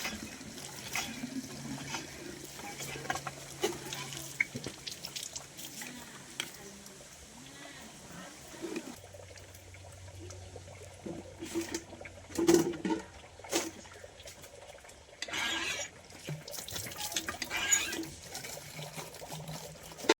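Running water splashes and trickles steadily as things are washed under a tap on raised ground, a soft continuous wash with a few louder splashes and thumps along the way.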